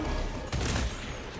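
Helldivers 2 gunfire: a short, loud burst of shots within a constant dense roar of battle noise.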